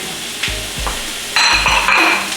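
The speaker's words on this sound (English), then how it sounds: "now I'm gonna go ahead and add our onion and our mushrooms" Onion and mushrooms for beef stroganoff go into a hot pan, giving a loud steady sizzle with soft thumps and scrapes as they drop in, and the frying grows brighter and busier partway through.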